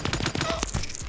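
A gunshot in the video game Super Animal Royale, heard as a quick run of clipped, punchy shots layered with busy game sounds across about a second.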